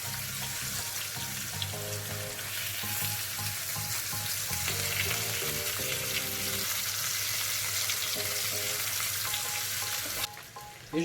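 Fennel fries in a pan with a constant close sizzle and crackle, punctuated by faint clinks and stirring, ending with a short clatter as the pieces are turned.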